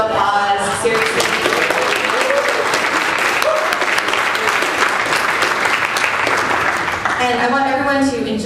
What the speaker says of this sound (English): Let's give them a round of applause, seriously.